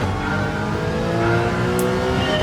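A racing car engine in Gran Turismo 7, played on PlayStation with a VR headset, steering wheel and pedals, drones loudly and steadily with a sustained high rev throughout, no voices over it.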